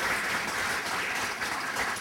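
A crowd applauds steadily throughout, dense clapping that fills the room at a consistent level without pauses or voices.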